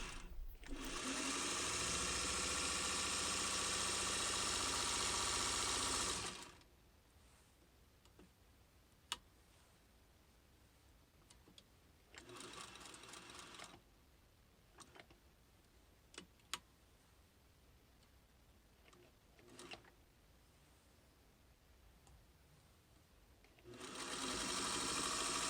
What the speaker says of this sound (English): Hold the threads taut and press the foot pedal to start sewing.